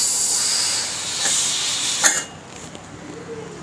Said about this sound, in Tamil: ஸ்டீம் வந்துருச்சு ஸோ இப்போது விசில் எடுத்து போட போகிறோம்